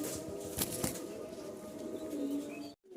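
A restless male pigeon flaps its wings in a couple of quick bursts close by, over a steady background hum, before the sound cuts off abruptly.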